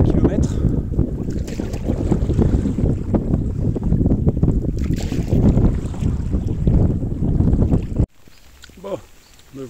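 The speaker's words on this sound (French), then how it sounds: "Là j'ai le vent devant moi maintenant depuis 2 km." Strong headwind buffeting a microphone while paddling a canoe on the Müritz lake, a loud continuous low rumbling gust with paddle splashes, then dropping off sharply to a quieter, calmer sound near the end.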